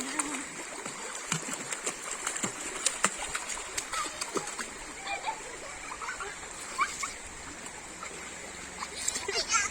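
Two young sisters play in shallow river water, with irregular splashes and sloshing spread across the whole stretch over a steady rushing background, and voices faintly mixed in.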